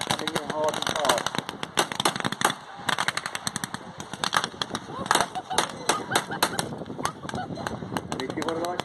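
Rapid bursts of machine-gun and rifle fire crackle through a desert battle reenactment, dense and continuous with sharp individual shots, loud and close, while a commentator talks over parts of it.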